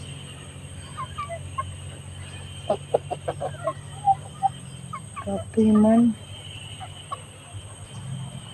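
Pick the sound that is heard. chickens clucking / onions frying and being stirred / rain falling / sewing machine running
chickens clucking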